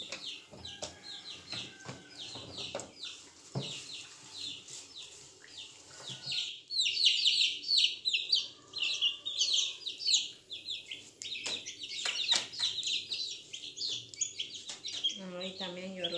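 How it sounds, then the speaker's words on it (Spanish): A hen and her five small chicks cluck and peep busily while being fed outdoors at a rural home, close, rapid chirping bursts mixed with lower clucks throughout. "Yorley está manteniendo sus pollitos"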